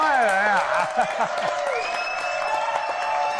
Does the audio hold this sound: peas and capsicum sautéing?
no